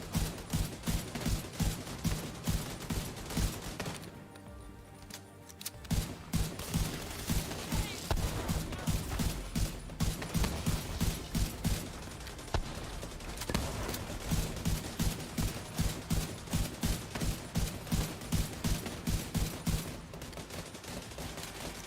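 A player's automatic weapon in the video game The Division 2 fires long, steady bursts of rapid rhythmic gunfire, loud and close, with a brief pause near the start and then sustained fire to the end.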